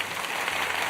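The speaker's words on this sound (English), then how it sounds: "We're doing sponsorship applauses now." A brief burst of dense, steady applause, like a short inserted sound effect, fills a single second at even loudness.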